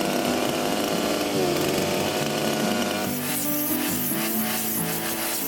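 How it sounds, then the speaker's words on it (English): Chainsaw fitted with a rip chain cutting along the grain of a log at a remote Alaskan log cabin build: a loud, continuous buzzing whine close by, its pitch wavering slightly as the chain bites into the wood. "One saw I always left a rip chain on for cleaning the groove and the flyaways or any time I was cutting with the grain."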